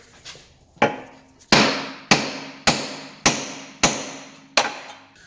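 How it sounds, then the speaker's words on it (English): Loud metallic hammer blows strike an Alfa Romeo 159 front suspension ball joint to release it, in a steady rhythm, about seven hits with ringing decay after each, close by. "Now I'm going to hit it with a hammer just to release the ball joint."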